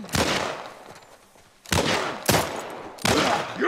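Gunfire in the video game The Last of Us, set in Pittsburgh: four loud, close shots in quick succession, each a sharp blast with a rumbling decay, the later three bunched closer together.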